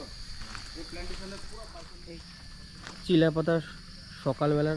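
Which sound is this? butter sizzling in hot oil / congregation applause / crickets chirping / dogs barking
crickets chirping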